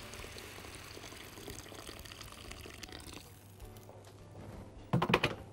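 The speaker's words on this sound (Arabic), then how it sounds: "هناخد ميه سخنه ونسيب الفريك يستوي" Hot water meets freekeh in a cooking pot, giving a soft, steady hiss and bubbling that quiets. A short burst of louder splashing and clattering follows near the end, close by.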